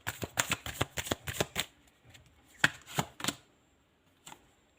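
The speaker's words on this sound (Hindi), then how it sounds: "तो यहाँ पर मैंने कार्ड को अच्छे से अरेंज कर लिया है।" Playing cards being shuffled and handled, a quick run of crisp riffling snaps followed by a pause and a few more separate flicks and taps, close and clear with no talking.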